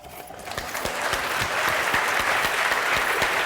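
An audience breaks into steady, sustained applause, many hands clapping together at close range, loud and continuous with no talk over it.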